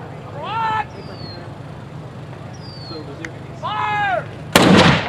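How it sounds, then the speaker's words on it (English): A 25-pounder field gun fires once at an outdoor demonstration, a sharp heavy blast near the end that follows a quiet stretch with shouted commands and whistle-like calls. "Fire at will, sir."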